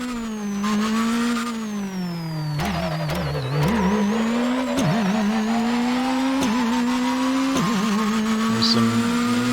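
A video game car engine drones and revs steadily, its pitch rising and dipping with shifts, with occasional tire squeals, loud and continuous.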